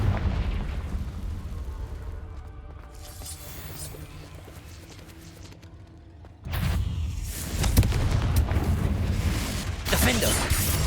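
Blasting spell explosions from the Confringo curse in the Hogwarts Legacy video game, booming bursts that swell loudly after a quieter stretch, mixed with game effects and music.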